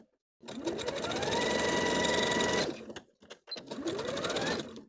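Zigzag stitching on a sewing machine attaches elastic to a skirt panel: a close, loud mechanical whir rising to a steady run, pausing briefly, then starting up again.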